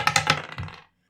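Dice for a tabletop role-playing game clatter across a hard surface in a few quick bouncing knocks, close and crisp, then settle and fall silent.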